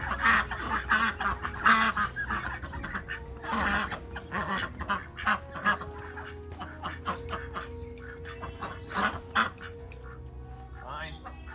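Ducks honking and quacking in a busy, overlapping chorus nearby, with repeated loud calls throughout and people talking underneath.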